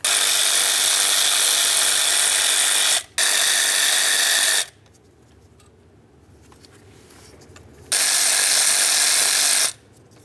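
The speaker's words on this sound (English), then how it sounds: "Let's use a 7mm to remove all of these mounting bolts." A 7mm ratchet works the coil pack mounting bolts on a 2006-2010 Ford Explorer, giving two long runs of loud, close, dense ratcheting clicks with a short break, a quieter pause, then another burst, with no talking.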